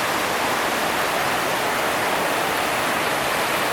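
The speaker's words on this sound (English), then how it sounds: "the river is so high, the water is so high, that, I mean, it's a raging river bubbling up out of the cave there." A high, raging river surges out of a mountain cave, a dense, steady roar of rushing water that fills every moment without pause or voices.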